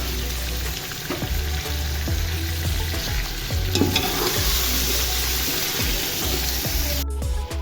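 Chicken cubes sizzle and crackle steadily as they fry in a pan with garlic-ginger paste, close up, with occasional stirring scrapes and a brief clunk near the end.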